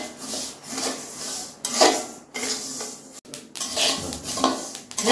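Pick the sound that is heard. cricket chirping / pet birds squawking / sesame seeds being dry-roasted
sesame seeds being dry-roasted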